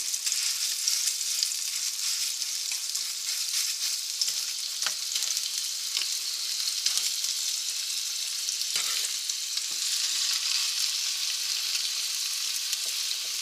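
Sausage frying and browning in a pan for a chicken and rice dish, a steady close sizzle and crackle with occasional sharper pops, continuous throughout with no talking.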